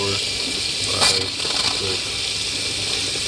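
Hot water runs from a tap in a 2021 Isata 5 28SS RV fed by a Truma tankless heater, a steady close hiss of flowing water with a brief splashy surge, while someone talks over it.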